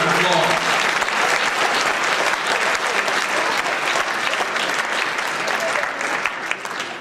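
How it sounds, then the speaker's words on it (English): A large banquet audience gives a loud, sustained round of applause that stays dense and steady throughout, easing slightly toward the end. "we need to give her a big round of applause"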